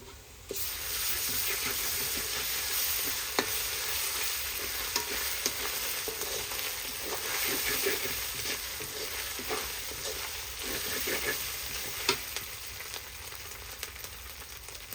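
Ginger and garlic frying in a pan for a duck curry with coconut milk, a steady loud sizzle with scattered stirring scrapes and pops, continuous throughout with no talk.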